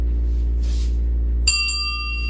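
A small hand bell, the little bell used in a church, rings clearly once near the end, its bright metallic tone sustaining and slowly fading over a low steady hum.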